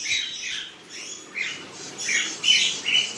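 Caged pet birds including tame blue monk parakeets give repeated shrill squawks and chirps at close range, in short bursts over a quiet room with no talking.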